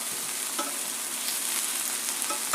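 Meat searing in a hot pan for a birthday dinner, a steady loud sizzle and crackle close up with faint scraping, no talk.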